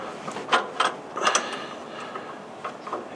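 Wrench ratcheting on a car's rear coilover adjuster, a few quiet, close clicking bursts in short irregular strokes.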